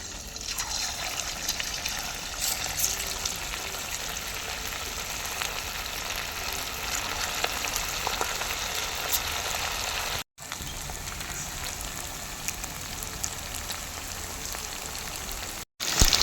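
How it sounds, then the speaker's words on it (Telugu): Marinated chicken pieces for chicken manchurian deep frying in hot oil make a steady, dense, rain-like sizzle that holds for the whole stretch, broken only by two very brief dropouts. "మనము ముందుగా ఊరబెట్టుకున్న చికెన్ని ఇప్పుడు ఒక్కొక్కటిగా ఆయిల్లో వేసుకుందాం"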